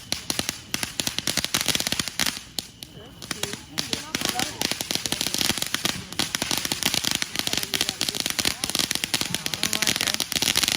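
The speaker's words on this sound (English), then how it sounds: "Do y'all want to see more fireworks?" Dense, rapid crackling bursts of July 4th fireworks pop and rattle continuously, with heavier booms scattered throughout and a crowd murmuring underneath.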